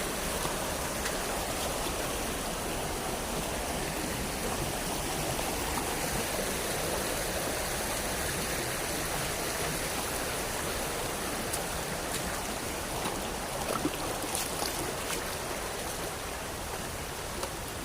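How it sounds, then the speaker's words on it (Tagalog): A flowing stream rushes steadily over rocks outdoors, a close, continuous, even wash of water with no talk, holding the same level throughout. "isang sapa naman ito"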